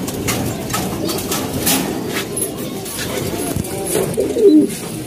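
Pigeons coo in low, throaty murmurs close by, over busy background noise with people talking nearby.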